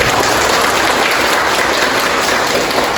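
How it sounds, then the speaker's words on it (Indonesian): Students in a classroom clap together in a brief, dense burst of applause, close and fairly loud throughout. "tepuk tangan dulu untuk Karisa."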